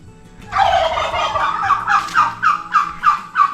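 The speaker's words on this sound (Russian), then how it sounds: "О, вот это вообще просто мега-индюк." A very large turkey gobbles loudly and close by, a rough warbling call that breaks into a run of quick, rhythmic gobble pulses, with no talking over it.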